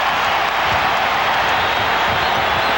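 A packed basketball arena crowd at the NBA Finals roars in a dense, sustained wash of cheering and noise, loud and unbroken throughout.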